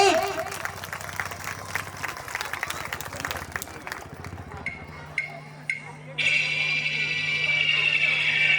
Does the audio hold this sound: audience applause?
yes